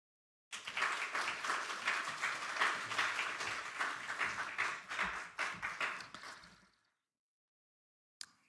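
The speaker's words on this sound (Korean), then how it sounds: "우리 총장님 나오실 때 박수하겠습니다" An audience at a university chapel service applauds to welcome the university president, a dense, steady round of clapping that lasts about six seconds and then fades out.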